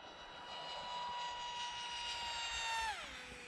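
The motor of a 3D-printed RC flying wing whines steadily in a high-pitched tone during a fast pass on a fresh LiPo, then its pitch drops sharply as the plane passes by.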